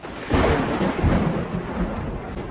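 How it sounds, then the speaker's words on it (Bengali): Loud, deep thunder rumbling and rolling through a rainy night in a horror audio story, swelling after a brief quiet start and sustaining as a heavy, continuous roar with no speech. "মেঘের গর্জনের রেশটা যেন আরো বেড়ে গেল"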